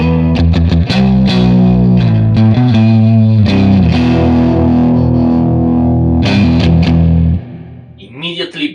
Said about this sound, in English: immediately the amplifier turns a gaining Marshall on a classic gain mode, plexi style